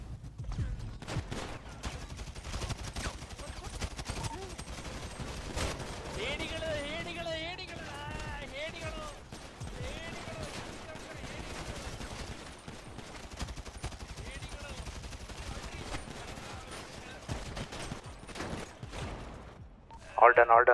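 Dense bursts of gunfire in a GTA roleplay game, rapid repeated shots and rattling volleys over about twenty seconds, with players talking throughout and a loud final burst at the end.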